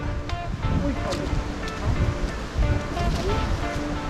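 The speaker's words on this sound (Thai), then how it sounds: "เป็นน้ำตก" A waterfall spilling into a rock pool roars as a steady, close, broadband rush of water, with gusty wind buffeting the microphone throughout.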